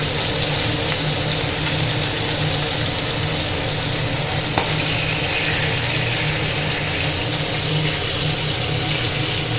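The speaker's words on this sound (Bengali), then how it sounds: "মাছগুলো ভালো করে খড়া করে ভেজে নিলাম।" Fresh market fish fry in a pan of hot oil with a dense, continuous sizzle and bubbling, close and fairly loud, holding steady throughout with no voices.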